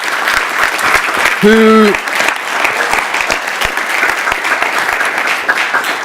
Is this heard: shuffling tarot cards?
no